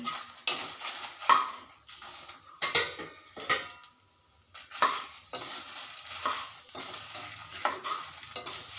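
Byadagi and Guntur dried red chillies roasting slowly over low heat in a pan, with repeated scraping and stirring strokes and light rustling of the dry pods against metal, no voices.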